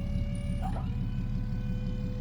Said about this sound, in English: I'm impressed with the Harbor Freight winches.